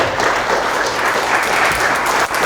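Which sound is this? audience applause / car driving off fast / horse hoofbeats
audience applause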